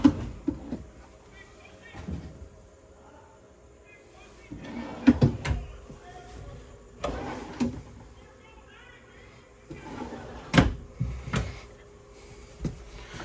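Drawers in a 2022 Salem Hemisphere 308RL travel trailer slide open and shut several times, each with a soft knock, close by, with quiet talking between them.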